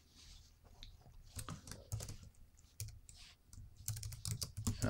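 Bursts of fast typing on a computer keyboard, close and fairly quiet, with brief pauses between runs of irregular keystrokes as a character style name is entered in InDesign.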